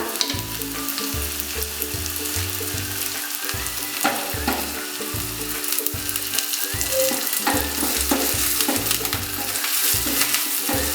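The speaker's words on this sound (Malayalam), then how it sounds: "നമുക്ക് ഗോൾഡൻ ബ്രൗൺ ആക്കി ഫ്രൈ ചെയ്തെടുക്കണം" Chicken pieces with a couple of curry leaves fry loudly in hot oil toward golden brown for a Kerala-style chicken stew, a dense continuous sizzle with scraping stirs and clanks, no talk.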